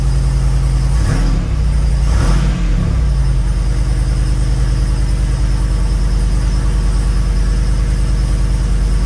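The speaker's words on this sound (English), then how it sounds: "Start the Jeep." A Jeep Wrangler 392 V8 engine running just after starting, a loud, close, steady deep rumble with two brief revs early on before settling into an even idle.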